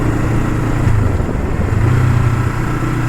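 A 1975 Honda CL360 Scrambler motorcycle engine drops a gear, its steady low throttled hum holding near and loud, the pitch shifting slightly as it slows.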